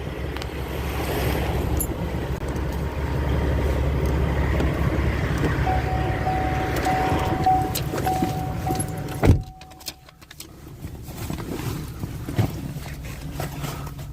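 Someone climbing back into a car on a chilly day, with steady outdoor engine and traffic rumble, keys jangling, then a door thump that cuts to a quieter cabin.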